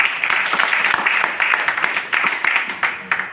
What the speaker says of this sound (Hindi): प्लीज इन सभी के लिए एक जोरदार ताली।